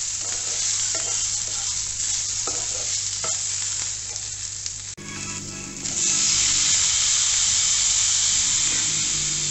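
Chopped onions frying in a pan for chana dal chutney, a steady close hiss with occasional stirring scrapes that grows louder and brighter partway through.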